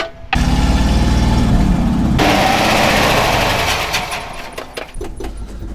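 An old Chevy engine catches on gas poured into the float bowl and runs with a loud, rough, rapid mechanical clatter, then roughens, sputters and falters as it starts running out.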